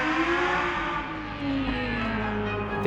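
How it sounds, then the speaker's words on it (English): Lamborghini Essenza SCV12 track car with V12 engine: a sustained, harmonically rich engine drone holding a steady pitch with slight shifts, loud and close, with no talking. "The sound of a V12 engine, this is a unique sound"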